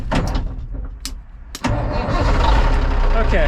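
A wrecker truck engine cranks with a few quick starter bursts, then catches and settles into a loud, close idle.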